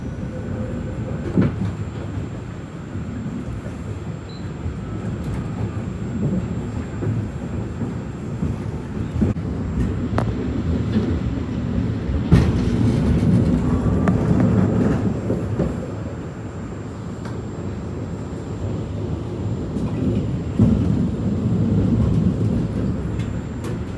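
Continuous low rumble and rattle of a New York City subway train in motion, with occasional clanks and squeals over the steady roar.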